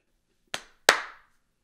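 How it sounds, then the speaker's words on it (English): Two sharp, close hand claps, evenly spaced, ring out alone in a quiet room to open a podcast episode. "let's do a double clap to signify the start of an episode"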